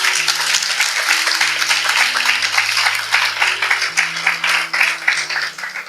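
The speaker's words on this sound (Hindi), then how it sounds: "आइए इस वचन के लिए ताली बजाएंगे।" Congregation clapping together after a Bible verse during a Hindi-language Christian church sermon, a steady dense applause filling the whole stretch with a sustained musical keyboard drone underneath.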